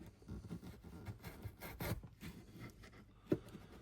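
A Lidl wood chisel pares thin curls from soft CLS timber held in a V-cut scrap block, making quiet, close rasping scrapes in short strokes, with one sharper knock near the end.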